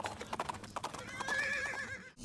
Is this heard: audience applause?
no